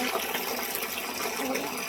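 Water gushes steadily and loudly into a 200-litre barrel being filled for spraying at a cucumber farm, a continuous dense rush of pouring water with no talk.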